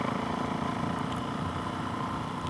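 Suzuki DRZ470 supermoto motorcycle with a Two Brothers slip-on exhaust and FMF Power Bomb header idling, a steady, rumbling, rapid-pulse engine note, fairly close and continuous throughout.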